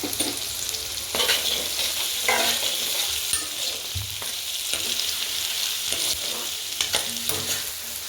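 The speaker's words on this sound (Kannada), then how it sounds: "ಹಸಿ ವಾಸನೆ ಹೋಗೋವರೆಗೂ ಸ್ವಲ್ಪ ಫ್ರೈ ಮಾಡ್ಕೋಬೇಕು ಚೆನ್ನಾಗಿ." Chopped onion fries in a pan and is stirred often, giving a loud, steady sizzle broken by spatula scrapes and clinks against the pan, with no one talking.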